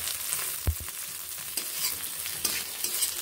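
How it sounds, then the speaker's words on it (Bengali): Tomatoes being stir-fried with browned onions for ghughni, a constant close sizzle broken by a few sharp knocks and scrapes of the stirring spoon. "টমেটোগুলোকে কয়েক সেকেন্ড এইভাবে নেড়ে ভেজে নিচ্ছি"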